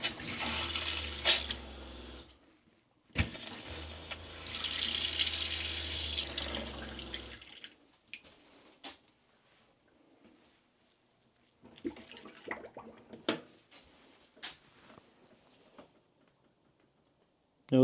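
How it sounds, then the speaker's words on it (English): Water runs from a camper faucet into the sink once the supply is turned on, a steady broadband rush lasting a couple of seconds. A second, longer stretch follows after a brief stop, then fainter clanks, drips and handling noises. "I'm gonna go turn the water on and we're gonna see if it shoots water into the wall anymore"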